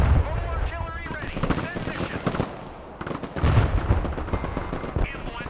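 Artillery fire and gunfire in the video game Broken Arrow, a dense rumble of booms and shots that continues under a voice talking throughout.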